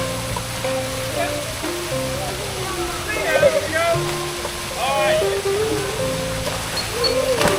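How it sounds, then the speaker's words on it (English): Sea lions at a pool show launching out of the water and crashing back down, splashes rising briefly over a constant water rush, with a presenter talking throughout. "they can launch their bodies high up into the air until gravity takes over and they come crashing back down"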